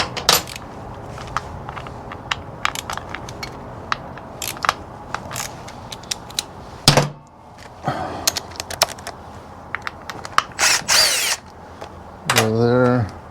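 An impact tool with a T27 bit knocks loose the primary cover bolts on a 2000 Harley-Davidson FXDS Dyna during a clutch replacement, giving sharp, repeated bursts with brief pauses between them, close and fairly loud.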